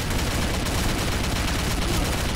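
Gunfire in the online shooter Combat Arms, Arms Race mode: a dense, continuous barrage of rapid shots, loud and unbroken throughout with no clear pauses.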